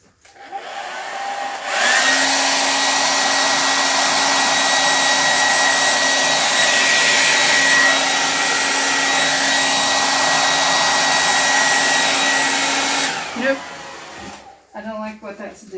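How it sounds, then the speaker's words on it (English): A hair dryer blows in a loud, steady whoosh for about eleven seconds, then switches off, leaving brief handling sounds. "let me try the hairdryer"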